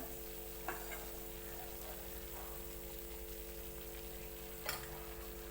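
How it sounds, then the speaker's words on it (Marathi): Drumstick pods (moringa) frying in hot oil with spices for a Maharashtrian shevga curry, giving a steady low sizzle throughout with a couple of brief stirring clatters near the start and end. "शेवग्याचे शेंग तर आता तेलात फ्राय करून घेतली"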